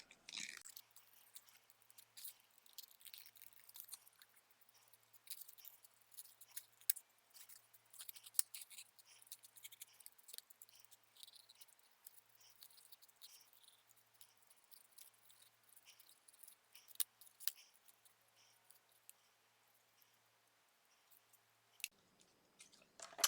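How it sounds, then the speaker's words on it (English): Paper snips trimming a word cut from cardstock, leaving a narrow white border, heard as faint, quiet snipping and paper rustle close by, continuing over about twenty seconds with no talk. "I'm just gonna use my paper snips"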